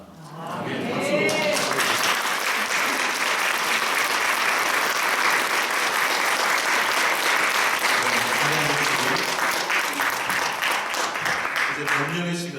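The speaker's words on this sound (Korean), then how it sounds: "박수로." A church congregation at an ordination service bursts into applause, a dense, loud, sustained clapping that swells quickly and holds steady for about eleven seconds before easing slightly.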